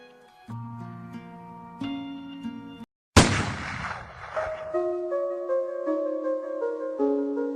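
Gunfire in the Call of Duty Modern Warfare 3 video game: a sharp, loud blast bursts out after a brief silence and decays into noisy rumble, set against tonal game music before and after.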